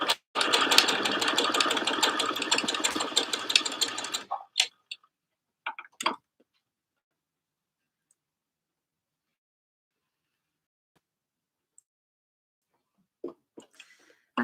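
A sewing machine stitches fabric for a dress in a rapid, even mechanical clatter for about four seconds, then stops, followed by a few sparse clicks and handling taps amid near silence.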